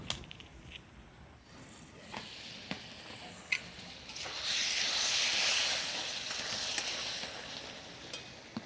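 A covered pot of curry with lentil dumplings, koi fish and taro simmers in water, bubbling and hissing softly with occasional small taps, then swelling into a stronger sizzle partway through.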